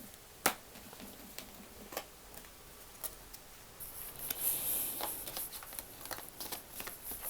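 An oracle card deck of fairy cards is shuffled by hand, giving faint, scattered papery flicks and soft riffling taps with a brief louder snap near the start, no voices.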